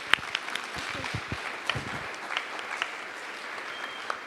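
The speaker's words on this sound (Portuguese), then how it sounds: "Vamos aplaudir o Senhor?" Congregation applause in a church, a steady wash of many hands clapping that fills the space at moderate level and holds without pause or voices.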